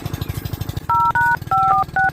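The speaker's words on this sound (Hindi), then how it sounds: "यही नंबर अब फोन लगा दे" A phone number is punched in on a telephone keypad, four clear electronic tone beeps in quick succession, loud and close, after a moment of low rumbling background noise.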